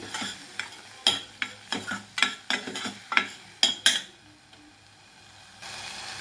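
Spoon strokes scrape rhythmically through a mutton curry base as turmeric powder is mixed in, about a dozen distinct stirring swishes with faint sizzling underneath, then a quieter pause before a soft hiss returns.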